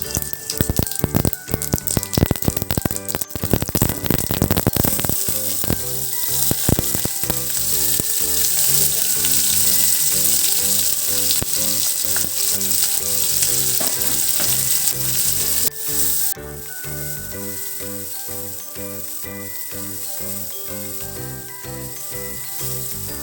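Half a spoon of mustard seeds and cumin hitting two to three spoons of hot oil, a burst of rapid popping crackles at first that settles into a dense, steady sizzle, then a brief drop in level.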